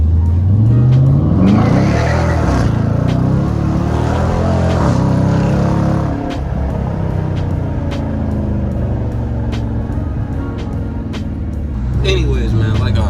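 A 2018 widebody car drives through city streets in sport mode with the windows up, its engine a loud steady drone that rises and settles, while someone talks over it inside the cabin.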